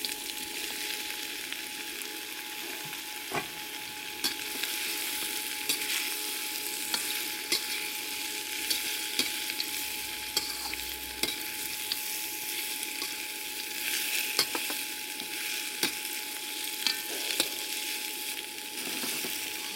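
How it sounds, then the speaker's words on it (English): Pork spare ribs with potato and carrot chunks browning in a hot pan, a steady bright sizzle running throughout with occasional pops and stirring scrapes. "So you're just browning up a little bit."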